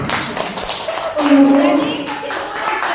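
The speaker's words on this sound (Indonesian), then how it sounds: "beri tepuk tangan untuk teman kita" A classroom of students claps for a classmate during a school science lesson, a dense, steady patter of many hands that stays fairly loud for about three seconds, with a faint tonal hum running underneath.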